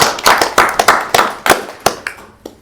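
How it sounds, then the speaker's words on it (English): Scattered hand claps at a board meeting, about a dozen distinct sharp claps at uneven intervals, close and fairly loud, tapering off toward the end with no talk. "I think that also warrants a round of applause and recognition."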